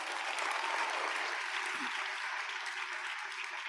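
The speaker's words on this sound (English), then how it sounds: "Let's give her a round of applause." An audience at a University of Johannesburg African Union model summit applauds, a steady, fairly distant clapping that holds for several seconds and fades slightly toward the end.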